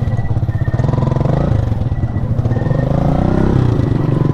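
A small motorcycle crossing a deep river in General Nakar gives a loud, close, continuous engine drone with rough clattering pulses and shifting revs throughout.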